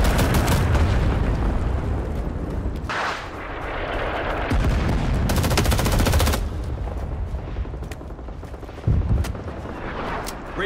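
Dense gunfire and fire-support barrages in the Vietnam War shooter Rising Storm 2: Vietnam, with rifles such as the M16 and L1A1 in use; loud, continuous volleys and booming impacts rolling on without pause, with a sharp burst near the end.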